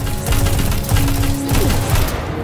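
Rapid gunfire from the shooter Destiny 2, a dense fusillade of loud repeated shots with booming low end over a steady game soundscape.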